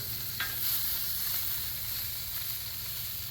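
Sausages fry on a Blackstone griddle with a steady, close sizzle and crackle of grease, a brief scrape near the start, and no talking.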